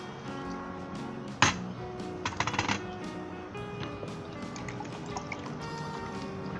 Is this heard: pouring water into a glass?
yes